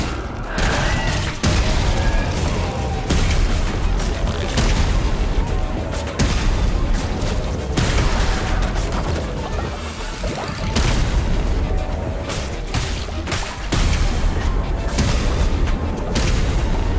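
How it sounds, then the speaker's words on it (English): Homing missiles in a video game batter their targets with a steady barrage of loud booming explosions, dense and continuous with brief sharp cracks throughout. "Can't go wrong with some homing missiles."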